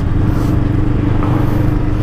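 A Bristol Veloce 500 engine drones steadily at about 4,500 RPM while cruising at 100 km/h, a loud, continuous low hum with no talk.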